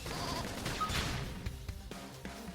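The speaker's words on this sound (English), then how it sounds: "Just makes little sheep sounds." An enemy creature in the game Xenoblade Chronicles X gives loud sheep-like bleats amid combat noise, with sharp impact sounds following in the latter half.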